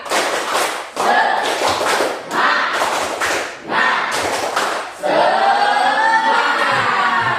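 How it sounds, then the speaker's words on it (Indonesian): An Indonesian school class performs tepuk semangat, a rhythmic group clap chant, in several loud bursts of patterned clapping with chanting voices, ending in sustained group chanting. "Sekali lagi, tepuk semangat."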